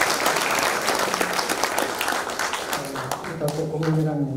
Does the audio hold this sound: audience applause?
yes